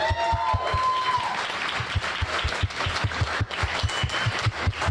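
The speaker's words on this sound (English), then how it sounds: "Round of applause for Stephanie." A small audience claps for a woman weightlifter after a timed overhead press, with a few distinct hand claps over steady applause and a brief tonal sound at the start.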